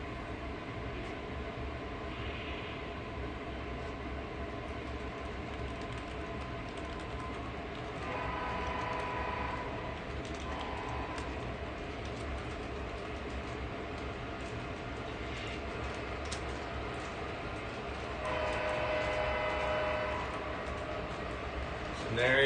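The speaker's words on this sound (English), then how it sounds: "let me get that train going" A steady rumbling clatter of a Lionel or MTH model train running along its track continues throughout, with a person talking intermittently over it.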